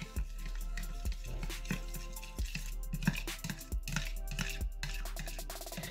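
Dish soap and oil being mixed for a slime recipe, close wet squishing and stirring strokes in a repeating rhythm with sticky clicks and drips throughout.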